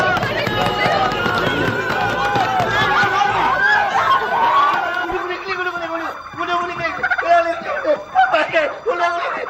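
A flock of turkeys gobbling and clucking in a noisy, overlapping chorus, with people talking over them nearby.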